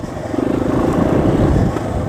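Single-cylinder dual-sport motorcycle engine, a Kawasaki KLX250S or Yamaha XT250, running steadily at 8,000 feet elevation, a close, continuous thrumming drone that holds loud through the clip with no talk.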